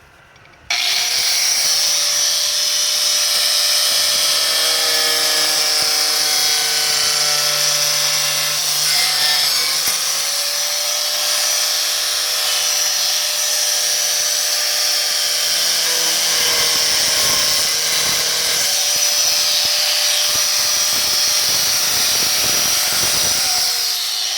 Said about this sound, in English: So I'm going to use the Dremel. I'm just going to cut straight across, straight up, and then I'll remove that piece.